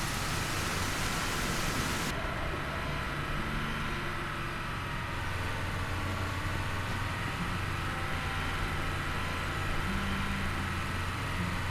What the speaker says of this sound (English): And the rain came back.